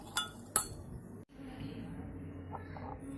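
A spoon whisks coffee in a cup for restaurant-style hot coffee, giving sharp metallic clinks against the rim followed by a softer continuous scraping, close up, with a voice speaking quietly.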